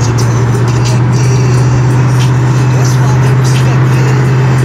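A two-door box Chevrolet Caprice on 26-inch rims cruising a freeway at about 55 mph, giving a steady loud engine drone and road roar with a strong low hum throughout.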